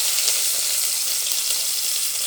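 Onion, curry leaves and tempering seeds sizzle in hot oil in a pot, a steady, bright frying hiss that continues close and unbroken, with no talk.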